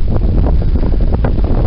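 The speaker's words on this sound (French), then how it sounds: "je suis pas sûr que vous entendiez avec tout ce vent" Wind on a sailboat at sea blasting the microphone, a loud, continuous, rough rumble with gusty surges and no pause.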